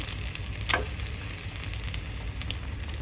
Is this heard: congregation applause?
no